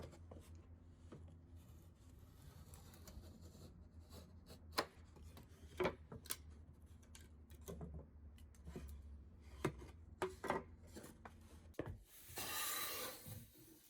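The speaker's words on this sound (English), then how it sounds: "I cut the rabbet just by the cutting gauge" Cutting gauge scoring a rabbet into paulownia wood by hand, faint repeated scraping strokes with scattered light taps, ending in a brief louder rasp.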